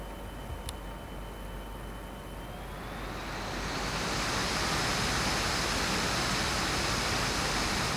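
A laptop cooling fan in turbo mode whirs up from a quiet hum into a loud, steady rushing roar, like a jet spooling up, then holds at full blast.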